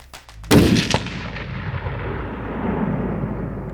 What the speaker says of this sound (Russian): Второй выстрел сделаем.